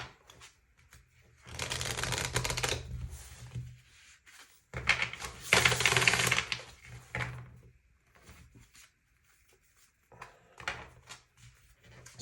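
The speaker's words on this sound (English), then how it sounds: "Let's do one more shuffle," A deck of tarot-style magical spell cards is shuffled up close: two long bursts of riffling and sliding card noise, then lighter, scattered handling taps and rustles.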